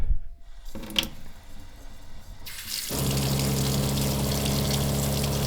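A shop sink's water pump motor kicks on as the tap opens, water gushing steadily into the basin with a constant motor hum underneath, loud and close.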